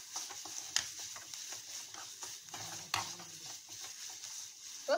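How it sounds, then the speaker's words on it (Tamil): Egg masala stirred and mixed in a pan, soft scraping and tapping of a spoon with a faint sizzle, quiet and close, strokes spaced irregularly. "இதெல்லாம் சேர்த்து நல்லா மிக்ஸ் பண்ணிடலாம்."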